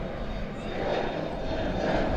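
An airplane performing a go-around at DFW Airport roars loudly with a dense, steady engine rush that swells slightly as it passes, heard close and alone.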